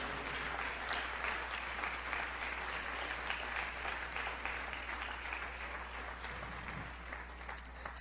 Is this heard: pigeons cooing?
no